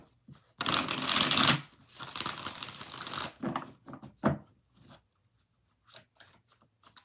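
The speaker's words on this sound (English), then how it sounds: "One more shuffle for Michelle." Tarot cards being shuffled by hand at close range, several dense riffling bursts in the first few seconds followed by softer, sparse card taps and handling noises.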